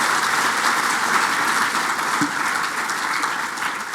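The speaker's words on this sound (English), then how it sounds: "I'd like to give Mike a big, big round of applause." A crowd at a payments conference closing session applauds steadily and loudly for the whole stretch, the clapping easing slightly toward the end.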